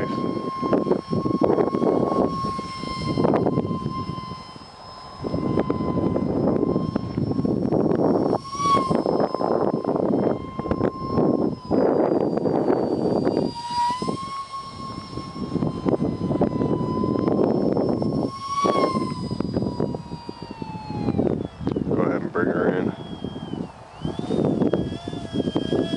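A UMX micro F-16 RC model jet flies continuously overhead, its steady electric whine rising and falling as it passes, loud and sustained with short dips between passes.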